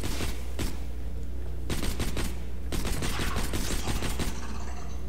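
Hyperion pistol shots in Borderlands The Pre-Sequel, fired in quick clusters of sharp reports separated by brief pauses, over a steady low rumble of game ambience.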